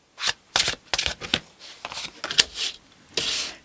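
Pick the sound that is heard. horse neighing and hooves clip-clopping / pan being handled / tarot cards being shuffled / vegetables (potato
tarot cards being shuffled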